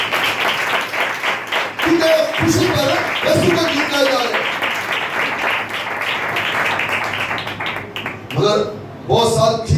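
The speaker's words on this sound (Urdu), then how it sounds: "آئے یسوع کا ہی زور سے تالی بجائے میرے لیے" A church congregation at a Wednesday meeting claps loudly and steadily in praise of Jesus, a dense patter of hands running beneath a preacher speaking throughout.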